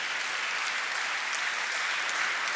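A steady wash of audience clapping at a Maharaja Agrasen Jayanti poetry gathering, continuous and even in level throughout.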